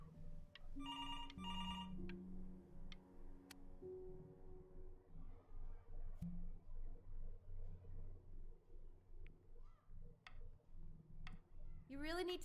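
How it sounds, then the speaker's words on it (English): A telephone rings in the video game Before Your Eyes, with bright repeated ring bursts near the start over a steady low droning background that continues throughout. "Phone call in the night."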